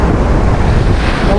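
Strong ocean waves roll and surge under gusty wind at a fishing spot during the northeast monsoon, a steady loud rumble with wind buffeting the microphone throughout.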